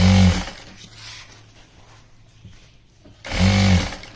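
Sewing machine stitching a folded fabric strip, two loud close bursts of motor hum at the start and end with quieter handling and shuffling between.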